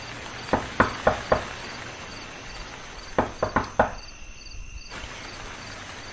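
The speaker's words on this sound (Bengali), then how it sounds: "সেই সময় তারা দরজা ধাক্কানোর আওয়াজ পায়।" Knocking on a door during a rainy night, two bursts of four sharp raps each, close and distinct over a faint steady background of rain and crickets.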